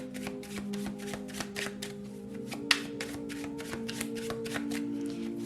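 A deck of oracle cards shuffled by hand in quick, steady riffling bursts, close and clear, with a low continuous hum behind and no talk.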